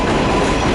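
A subway train in Jackson Heights, Queens roars past loudly and very close, with a continuous rattling rush of wheels on rails in a brief burst.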